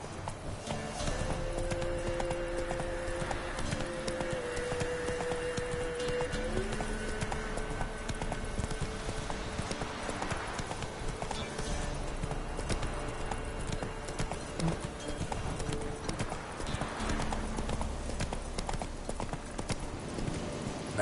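The horse Roach galloping in a video game, a fast rhythmic clip-clop of hooves running throughout at close range, over a steady tonal game background.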